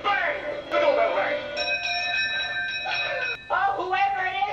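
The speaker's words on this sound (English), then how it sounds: "The doorbell rang." Doorbell ringing in the movie Clue, a sustained bell-like electronic ring with steady tones heard under overlapping voices from the film and from people watching it.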